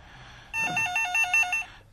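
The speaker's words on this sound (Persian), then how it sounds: "تلفن." A telephone bell rings in a home setting, starting after a quiet half second and sounding as a rapid repeated electronic trill in several bursts, loud and close with no talk over it.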